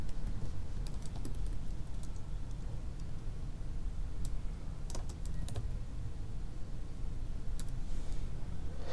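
Fingers type a search query on a computer keyboard, giving a steady run of quick, close key clicks with a few sharper taps standing out, and no talking.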